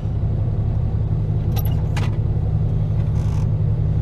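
A Ford 7840 tractor's diesel engine runs steadily in a deep, constant low rumble, close and loud, with a few brief metallic clicks and rattles partway through and no talk.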